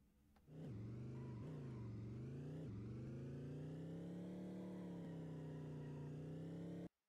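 A simulated arcade-style car engine in a Unity vehicle physics demo hums loud and steady, revving up in a few quick rises before settling into a constant synthetic drone that cuts off abruptly.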